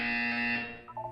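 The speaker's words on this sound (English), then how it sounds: "You will hear a buzzer." A harsh, loud electronic buzzer drones for about half a second, then fades out and gives way to a few short, quieter tones.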